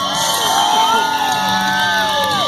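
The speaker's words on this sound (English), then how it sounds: "You see these guys break for that ramp, you start cheering for them." A county fair crowd cheers and whoops for BMX riders heading for a ramp, loud sustained shouting with overlapping voices and children's yells.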